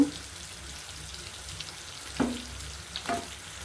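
Fish frying in hot oil in a pan, a faint, steady hiss with a couple of soft spatters, heard close with no speech.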